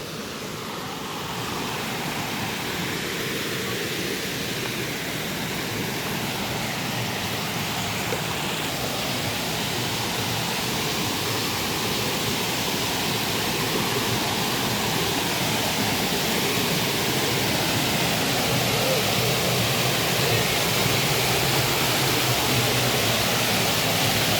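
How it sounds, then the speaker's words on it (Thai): Steady, dense rush of a waterfall in Kalasin, Thailand, broadband and continuous, loud and close throughout with no breaks. "น้ำก็มีอยู่นะทุกคน น้ำตกลึกลับ"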